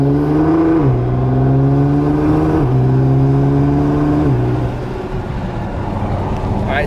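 A straight-piped Nissan R35 GT-R drives along, its exhaust droning loud and steady from inside the car, with the engine note dropping at each of three gear shifts before settling at a lower cruise.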